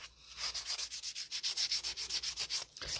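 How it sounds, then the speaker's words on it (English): Rapid rhythmic rasping of a sanding block rubbed back and forth over a denture, close up, about five or six strokes per second. "I will usually take a sanding block to it and make sure that all the little edges and little pieces are off"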